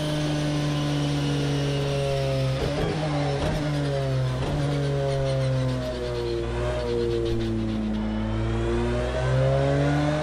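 Porsche 911 GT3 R race car in Project Cars 2, its engine held at light throttle with a steady droning hum, a few sharp gear-change blips and slowly rising and falling revs, loud and continuous with no talk.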